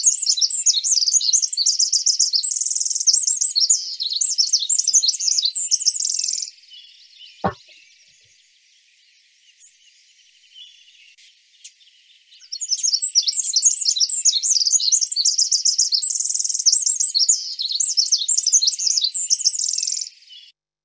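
A Pacific wren sings in shady, moist redwood forest: two long, loud bursts of rapid, intricate high trills separated by several seconds of near silence, with a single soft thump in the gap.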